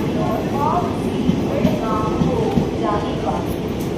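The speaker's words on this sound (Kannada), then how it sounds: "ಟ್ರೈನ್ ಹೊಟ್ಟೋಯ್ತು" A train rumbles steadily as a dense, constant wash of noise, with people's voices talking over it throughout.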